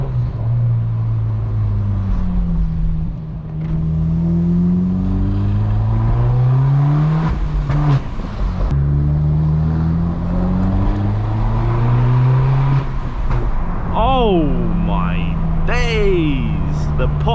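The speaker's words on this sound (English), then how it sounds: "pops on the upshift" BMW 118i F21 hatchback driven at night, engine droning and rising through the revs with exhaust pops on the upshifts, loud and close throughout, with a brief higher whine near the end.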